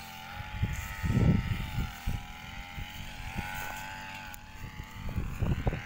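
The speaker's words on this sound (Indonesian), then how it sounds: "Di sana sedang melakukan penebasan menggunakan mesin potong rumput." Motorized grass cutter clearing a chili field in Belu, Nusa Tenggara Timur, heard from some distance as a droning engine whine that rises and falls in uneven surges with wind buffeting.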